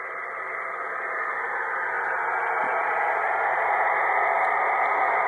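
Steady radio static and hiss from plasma TV interference, heard through an MFJ-1026 noise canceller on an internal antenna, a continuous broadband rush that swells slightly and holds without talk.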